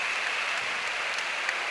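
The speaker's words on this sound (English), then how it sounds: "Big standing ovation" Spectators at a FIBA U17 World Championship basketball final give a standing ovation, a steady dense wash of applause with no pauses.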